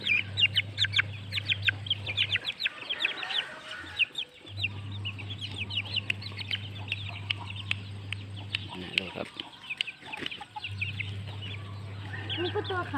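Fighting-cock chickens at a breeding farm cluck and squawk repeatedly close by over a steady low hum, with people talking at times in the background.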